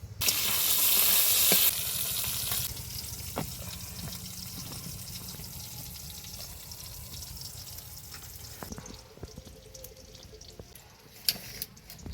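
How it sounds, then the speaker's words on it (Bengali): Eggplant pieces go into hot frying oil with a loud initial burst of sizzling, which quickly settles into a softer, continuous frying hiss punctuated by occasional utensil clinks. "এবার বেগুনটা দিয়ে দেবো"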